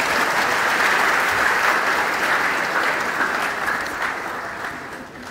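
A lecture-hall audience at a college of engineering public lecture claps steadily for a speaker, a dense even wash of hands that tapers off slightly toward the end, with no talk over it.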